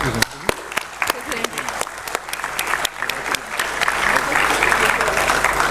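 A crowd applauds award presenters at a startup ideathon event, dense clapping building toward the end with some loud individual claps standing out nearby, and crowd noise mixed in.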